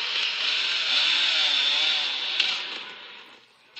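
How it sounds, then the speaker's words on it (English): A chainsaw in a video game revs with a steady, harsh buzzing drone that holds for a few seconds and then fades away, with no talking. "Give me my chainsaw back."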